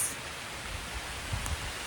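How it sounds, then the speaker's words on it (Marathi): Soft, steady hiss of monsoon rain falling at a beach in Alibag, faint and even throughout, with no voices. "पाऊस पण आलाय मस्त"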